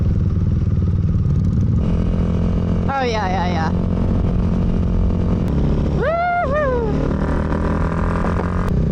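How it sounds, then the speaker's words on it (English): Motorcycle riding along a smooth paved coastal road beside the waves, its engine droning steadily throughout with loud wind rumble, while a rider speaks and exclaims briefly over it. "Perks of being on a motorcycle."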